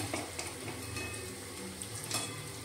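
Vada dumplings frying in hot oil until golden give a steady, busy sizzle with faint scattered clinks of a utensil, all fairly quiet and close, with no talking.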